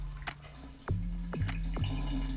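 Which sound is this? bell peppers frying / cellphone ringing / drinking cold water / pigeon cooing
drinking cold water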